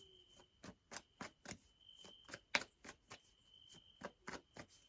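Rhythmic frog croaks pulse steadily in the morning, about three per second, with a faint continuous insect-like tone behind them, fairly quiet and somewhat distant.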